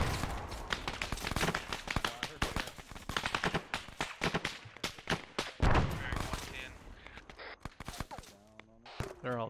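Grenades and rifle fire in Arma 3 jungle combat on Tanoa, a dense run of sharp gunshot cracks and bursts with a few heavier blasts throughout, people talking over the battle.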